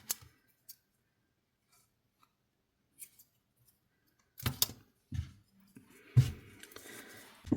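Scissors snip through crochet yarn while a Christmas decoration is being made for a crocheted cardigan: sparse faint clicks at first, then several close, crisp cuts with rustling handling noise, no talking.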